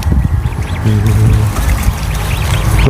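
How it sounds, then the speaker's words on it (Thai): Several ducks quack in a noisy cluster nearby, their calls overlapping against a steady outdoor background. "มีเป็ดน้อยนำอีก"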